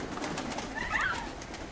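Pigeons coo once, faint and somewhat distant, over a steady outdoor background hiss.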